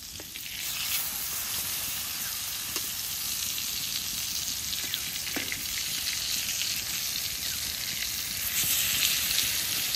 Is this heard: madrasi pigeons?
no